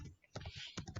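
Rapid, uneven bursts of typing on a computer keyboard while writing C++ linked-list code, close and clear with short pauses between keystroke clusters.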